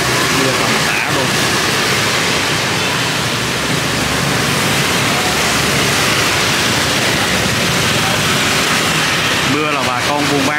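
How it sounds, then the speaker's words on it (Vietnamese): Heavy rain pours in Saigon, a loud, dense, continuous hiss of downpour with brief voices near the end. "Rồi Sài Gòn thì đang mưa."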